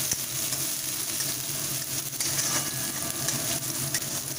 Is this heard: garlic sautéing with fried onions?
yes